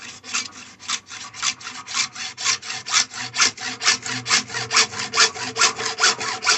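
A hand saw cutting through PVC pipe, a fast steady rhythm of rasping back-and-forth strokes, about twenty-five of them, close and clear with no talking.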